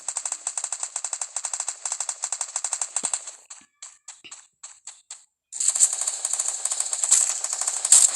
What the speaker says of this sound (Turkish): Atışma.